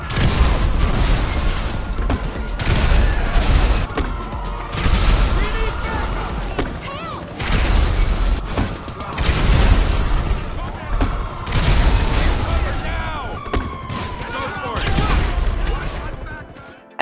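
Repeated explosions from a compact grenade launcher in GTA Online, heavy booming blasts in a dense, continuous run with bursts of gunfire-like crackle throughout.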